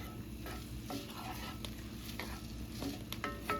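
Minced garlic and vegetables frying in a pan while being stirred, a faint steady sizzle with repeated soft scraping strokes, quiet and close.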